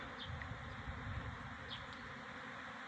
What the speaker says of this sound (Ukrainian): І такий шум від бджіл.